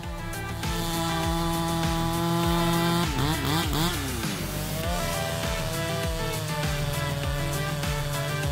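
A Husqvarna 272XP chainsaw cutting through a tree, its engine snarling loud and continuous with pitch shifts as it revs and bogs into the wood.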